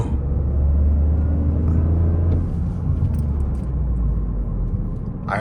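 A 2024 Toyota GR Corolla engine heard close by as a deep, steady rumble that swells slightly, continuous throughout with a faint rattle near the end.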